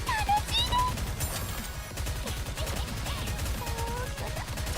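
Rapid machine-gun fire from the Nikke shooter game rattles steadily through the whole stretch, loud and continuous, with light game effects and a voice talking over it.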